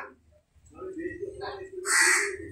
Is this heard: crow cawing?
yes